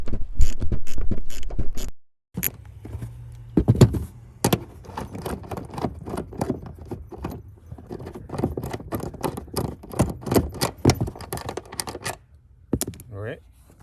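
A deep socket on a ratchet wrench works loose the seat fasteners inside a Toyota Tacoma, giving rapid close mechanical clicks and metallic clanks in irregular bursts, with a loud rush at the start and some talking in between.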